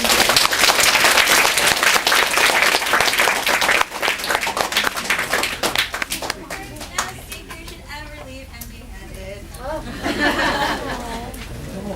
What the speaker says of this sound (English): give a round of applause to our guest speakers